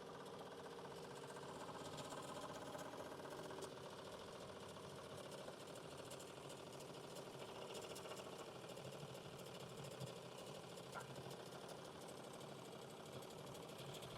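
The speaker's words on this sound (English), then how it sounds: "It will embroider automatically until finish." An automatic embroidery machine stitches a pair of pants with a faint, steady mechanical whir and rapid needle chatter that continue evenly, with no voices.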